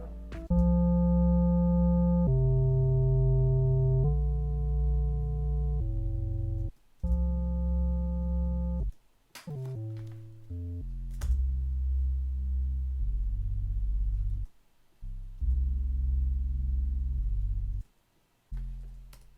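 Soloed 808 bass notes in a pop beat built from a sample, heard alone with nothing else in the mix: a run of loud, sustained low tones changing pitch in steps, cut by short gaps, with a few brief clicks where notes switch.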